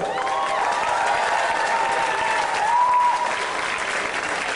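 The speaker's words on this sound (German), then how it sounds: "Einen recht großen Applaus für die zwei." A crowd at a big band concert at the Peter und Paul Fest in Bretten claps loudly and evenly throughout, a thick wash of applause with a faint sustained tone beneath it.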